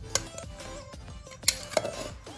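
Metal utensil clinks and scrapes against a pressure cooker while stirring eggplant and potatoes, a few sharp taps over low kitchen rumble, with no voices.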